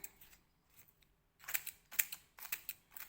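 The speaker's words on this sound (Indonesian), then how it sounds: "Kita bisa gunting seperti ini teman-teman." Scissors snipping through older mango leaves into small pieces, a run of sharp, close clicks and crisp cuts after a quiet start, grouped in irregular bursts.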